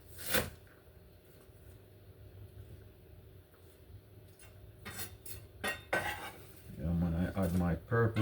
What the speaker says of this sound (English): Add my purple onion, give it a little stir so everything comes in one.